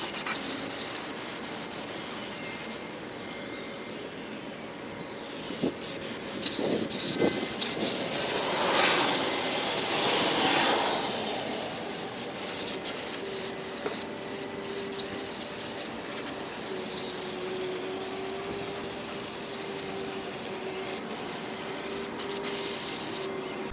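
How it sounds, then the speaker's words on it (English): Carburetor cleaner sprays onto a Cummins diesel cylinder head from a 2nd-generation Dodge Ram in a long, continuous hiss, with intermittent rubbing and scrubbing noises and no talking. "Got some carburetor cleaner, gonna douche it down."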